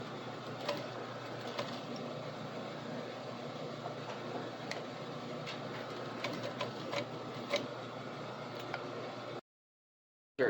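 A sewing machine stitches back and forth across nylon webbing for a collar, a steady close mechanical whir with faint periodic clicks, running alone before cutting off abruptly.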